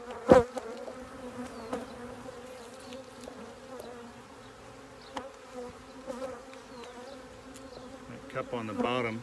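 Honeybees buzz on a hive frame of capped brood and larvae, a soft continuous hum with a steady pitch from many close insects, broken by occasional faint knocks and handling noises.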